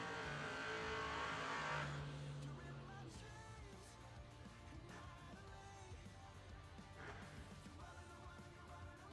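Drag race car at a doorcar showdown revving on the throttle, engine blips rising and falling over a loud, steady rumble of track noise, with a sharper burst near the start.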